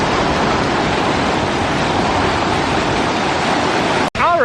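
Water splashing and rushing steadily on a raft ride at Wildwater Kingdom, a loud continuous wash with no clear pauses.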